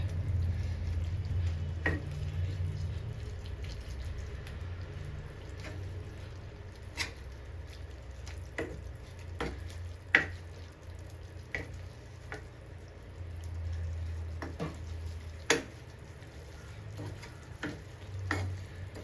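Chickpeas being mashed into a sizzling tomato and ginger gravy in a pan, with steady close frying crackle under repeated sharp taps and scrapes of a utensil against the pan.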